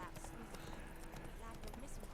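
Horse hooves gallop in The Witcher 3, a quick rhythmic clip-clop under steady game ambience while someone talks over it.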